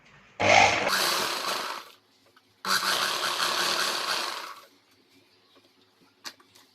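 A sewing machine stitches a katori blouse in two close, loud bursts of rapid whirring mechanical chatter, the first about a second and a half long and the second about two seconds, followed by quiet with a faint click.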